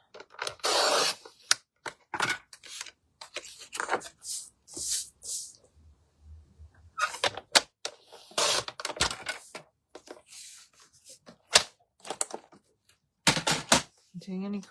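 Card stock is cut for a handmade card, with sharp slicing and scraping bursts and taps near the microphone, scattered between stretches of speech and silence.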